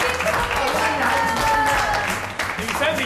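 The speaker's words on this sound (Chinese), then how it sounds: "给女生掌声鼓励。" Studio audience applauding two young women on a Taiwanese variety game show, steady clapping filling the clip with voices and music running underneath.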